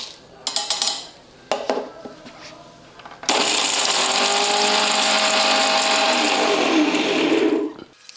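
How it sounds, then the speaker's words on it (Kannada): A mixer grinder powders ginger, cardamom and pepper in a jar. A few clinks and knocks of the jar being handled come first, then the motor roars into a loud, steady whir for several seconds before stopping. "ಈಗ ನಾನು ಮಿಕ್ಸಿ ಜಾರ್ ತೊಗೊಂಡಿನಿ"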